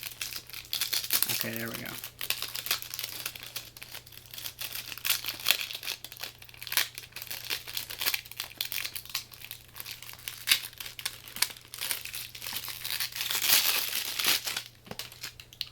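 Close crinkling and tearing of plastic packaging around brand-new 3.5-inch floppy disks from 1990, with scattered crackles through the clip and someone speaking briefly over it.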